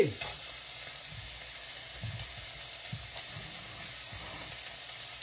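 Hamburger steak frying in an overheated skillet, giving a continuous loud hiss and sizzle with faint low bumps underneath, close up, no voices.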